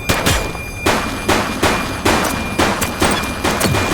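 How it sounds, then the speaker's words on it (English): Rapid gunfire from a police video game, with about eight sharp shots in a steady, repeating rhythm. The shots are loud and close, and no one talks over them. "He's shooting!"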